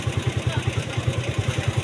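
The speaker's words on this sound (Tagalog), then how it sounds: "Kaya ngayon hindi ko muna pinatay ang makina, gawa nung walang laman." A motorcycle engine idles up close with a regular, fast, chugging low pulse that keeps an even rhythm, loud and steady, with nothing else over it.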